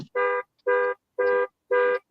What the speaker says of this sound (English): Did you hit the key fob, the alarm?